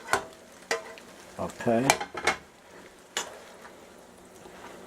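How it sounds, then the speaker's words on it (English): Sauce is stirred into shrimp frying in a pan, giving sparse scraping clicks and a brief sizzling flare over quiet background, with a short spoken word mid-way. "You know, stir our sauce up in there."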